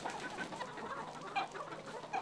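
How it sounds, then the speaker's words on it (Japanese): Chickens on a small free-range egg farm in Suwa, Japan cluck softly and intermittently over a steady low background hum, faint and close-miked, with no voices. "鶏がストレスなく過ごし、いい卵を産めるよう試行錯誤の日々です。"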